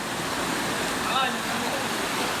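Water pours steadily down a short, low waterfall at a church retreat, a continuous broadband rush with no breaks, fairly close and even in level.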